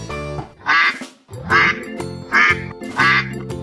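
A sea animal toy plays a duck sound, four loud, evenly spaced nasal quacks in a steady rhythm, close and clear, with no talk over them.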